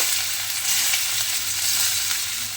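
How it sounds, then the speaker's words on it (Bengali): Finely chopped small potato pieces hitting hot oil, a loud, dense sizzle that holds steady throughout at close range with no voices. "এইবারে আমি তেলের মধ্যে দিয়ে দেব আলু"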